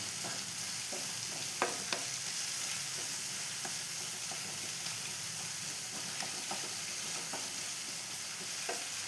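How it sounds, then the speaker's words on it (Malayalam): Tomato and onion sauté in a pan for Kerala-style kadala curry, giving a steady, even sizzle with a few sharp ticks and scrapes from stirring, close and unbroken, with no talking. "അപ്പൊ തക്കാളി ഉള്ളി എല്ലാം വഴന്നോ നോക്കട്ടെ ആ എല്ലാം വഴന്നിട്ട് കാണുന്നുണ്ട്"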